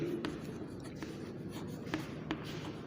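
Marker or chalk writing on a board during a physics lesson, a steady run of faint scratchy strokes with a few sharper taps over low room hum, with no talk.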